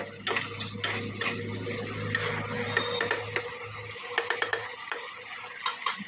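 A spoon scrapes and knocks around a pan of chicken curry masala with chopped tomato, giving repeated clattering strokes over a soft sizzle close by, with no talking.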